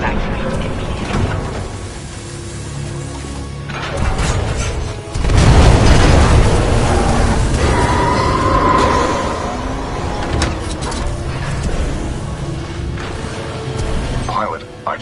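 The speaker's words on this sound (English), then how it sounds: "a series of explosions just weakened the manipulator arm" Series of explosions in the Titanfall 2 campaign, deep booming blasts with a big swell around the middle, layered with mechanical clanks and rumbling, under intermittent game dialogue.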